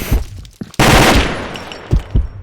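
Loud automatic gunfire rattles in the online shooter CrossFire, with a sustained rapid burst framed by shorter shots, all up close and with no talk over it.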